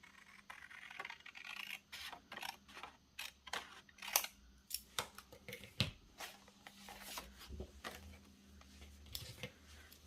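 Scissors snip out a piece of paper ephemera for a scrap journal, with a run of short, close crisp cuts and paper rustles at an uneven pace over a quiet background.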